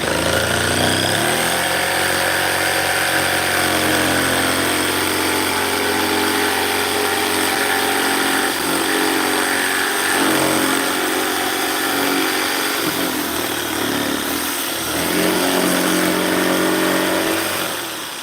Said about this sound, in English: Wait for the saw to stop before you take it out, because it could catch on there and jerk it out of your hand